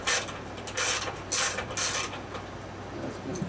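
A ratchet removes the deck bolts of a Sole treadmill, giving four close, loud bursts of rapid clicking, evenly spaced, followed by a quieter pause with faint handling.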